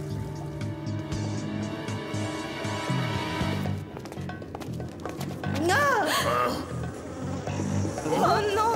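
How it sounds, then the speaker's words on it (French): Cartoon buzzing of giant insects, a droning hum beneath a busy soundtrack with warbling effects, while characters speak over it. "Encore ce bourdonnement!"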